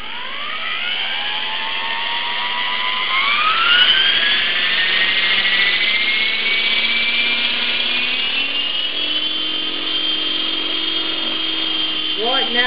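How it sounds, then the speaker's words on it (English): A small electric Twister Storm 3D RC helicopter with servo jitter whines, its pitch rising as it spins up under throttle, then holding a high steady tone with slight wavering. "Now I'll put the helicopter in with some throttle and pitch"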